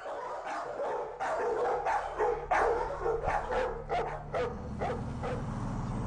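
An American Pitbull Terrier held in a kennel barks in a run of sharp, close woofs, mixed with yips and a short whimper, loud against a low background hum.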